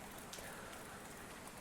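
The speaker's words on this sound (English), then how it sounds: "The rain, you can make it rain with or without lightning and thunder." Steady rain falls in a zombie video game, a soft continuous hiss of drops at low level with no thunder and no voices.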